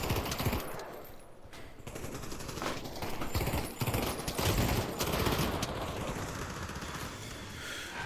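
Rapid automatic gunfire rattles almost nonstop in the Pavlov shooter game, loud and close, with dense bursts and short gaps and no talking.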